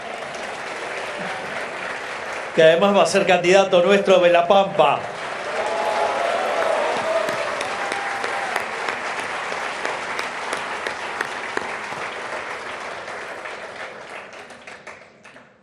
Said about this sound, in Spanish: Ya que estamos, aplaudamos también a Adrián Rabier,